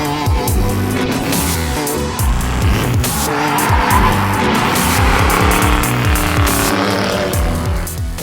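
A 1997 Ford Mustang GT drifts, its engine roaring loudly and continuously close by while the tires squeal and skid throughout.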